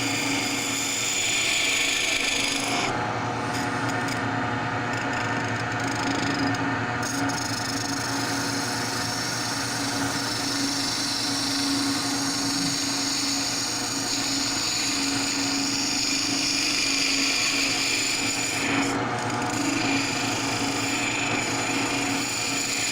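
Wood spinning on a lathe while gouges and parting tools cut it, a steady loud motor hum with a rough scraping rasp running unbroken for over twenty seconds, no talking.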